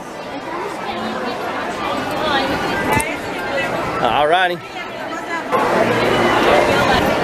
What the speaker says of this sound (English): And we're back into the crowds.